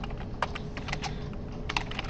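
Code being typed on a computer keyboard, a close run of quick, irregular key clicks over a low steady hum, with no voices.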